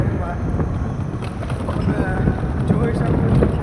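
Steady, loud wind rush and low rumble buffet the microphone while riding in a car on the way to a cricket game, continuing without a break.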